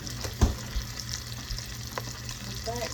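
Sausage and bacon frying in a pan on the stove give a steady crackling sizzle, with a few louder pops and the clack of a utensil near the start.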